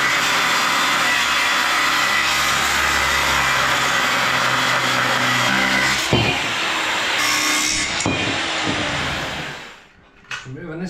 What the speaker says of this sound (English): So what I have to do now is I have to cut this axle.